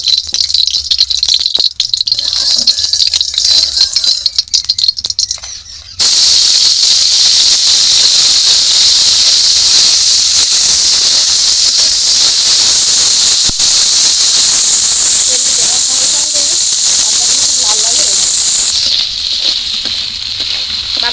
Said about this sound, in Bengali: প্রথমে মাছটা ভেজে নেব